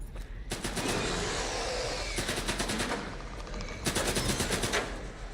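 Bursts of automatic gunfire in the shooter game S.T.A.L.K.E.R. 2, with three loud, rapid volleys separated by brief pauses and a dense, reverberant rumble between them.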